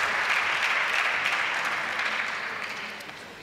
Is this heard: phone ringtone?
no